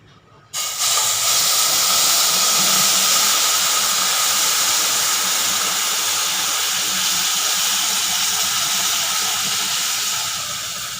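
A sudden loud, steady hiss erupts after a brief pause and continues unbroken as boiling sugar syrup is poured onto vermicelli in a pan, sizzling.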